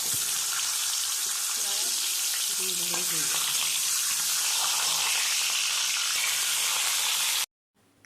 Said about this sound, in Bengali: তেলটাকে মেকআপ করে রাখা পটলগুলো ভেজে নেব একে একে